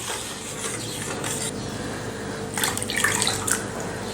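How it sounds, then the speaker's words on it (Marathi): Hot water poured into jowar idli batter in a bowl, a steady close splashing pour with rubbing, mixing noises that swell louder toward the end. "आता आपल्याला यामध्ये गरम पाणी घालायचं आहे"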